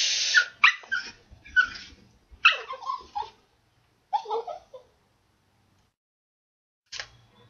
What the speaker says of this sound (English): Cause he barks all the time.